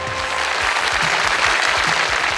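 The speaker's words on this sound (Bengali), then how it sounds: "তার জন্য করতালি" An audience gives a singer a round of applause, a dense and steady clatter of many hands that fills the space evenly from start to finish.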